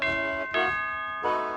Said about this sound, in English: That's a big ape who sounds like a doorbell.